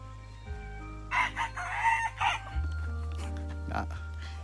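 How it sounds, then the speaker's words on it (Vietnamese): A rooster crows in the morning in rural Vietnam, a couple of loud drawn-out calls at mid distance over a steady low engine-like hum, with faint background sounds. "tiếng gà gáy sáng"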